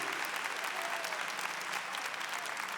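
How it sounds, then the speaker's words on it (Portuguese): A large audience at a Catholic gathering applauding Padre Pio, producing dense, sustained, even clapping that fills the whole stretch without pause. "Eu gostaria que vocês dessem uma salva de palmas para ele"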